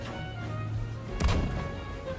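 Anti-aircraft gun fire in Battlefield V sounds as one heavy booming report, mid-distance, over a steady low battlefield rumble, with no talk.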